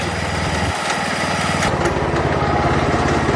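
Old tractor of more than 20 years, its engine running steadily as it is driven, a continuous loud low chug with a pulsing rhythm throughout and no talk.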